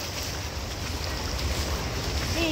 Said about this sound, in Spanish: Mira, de esta calle también baja el agua.